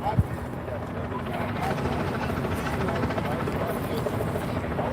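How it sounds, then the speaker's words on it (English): A police or news helicopter flying over a street protest in Dallas, a steady, fairly close rotor drone that holds throughout, with people talking over it. "we either got a DPS helicopter or news station out there"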